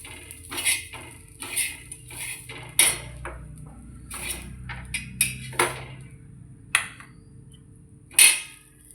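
A spoon scrapes and knocks against a pan as a cooked snack of leftover chapati is served into a dish: a string of separate metallic clanks and taps, fairly close, with quiet pauses between them.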